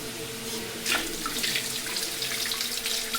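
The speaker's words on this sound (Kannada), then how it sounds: "ನೀರು ಹೋಗ್ತಾ ಇದೆ, ತೊಳೆದ್ಬಿಡು" Tap water runs steadily into a sink, a continuous close splashing stream with a few brief louder spatters and no speech.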